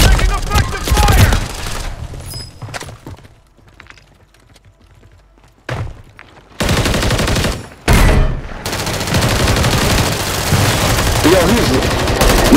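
Gunfire in the shooter game Call of Duty, loud bursts of rapid automatic shots that break off into a near-silent gap and then surge back into sustained, dense firing.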